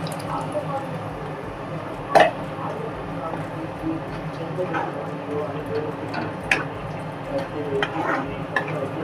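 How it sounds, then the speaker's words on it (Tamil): Vadacurry simmering in a pan as water is added, giving a steady low sizzle and stirring rustle with a few sharp clinks of a utensil against the pan. "இப்போது தேவையான அளவு தண்ணி சேர்த்துக்கிறோம்."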